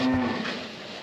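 A cow on a farm in winter, the mother of a very young calf, lets out a single close, loud moo that holds one steady tone for about a second before fading.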